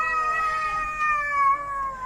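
Two large cats fight outdoors on a winter night, their long, wavering yowls rising and falling continuously and loudly close by, one drawn-out caterwaul sliding into another with no break.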